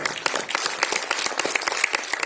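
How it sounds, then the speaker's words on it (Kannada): An audience at a talk about Kannada film directors bursts into dense, sustained clapping, loud and close, with no voices over it. "ದೊಡ್ಡ ಚಪ್ಪಾಳೆ"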